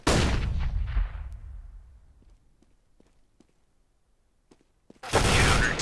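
Gunfire in Counter-Strike on the de_cache map: a loud burst of shots opens, then decays into scattered faint clicks and footsteps, before another loud burst of sustained fire at the end.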